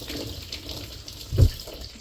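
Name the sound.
washing hands under running tap water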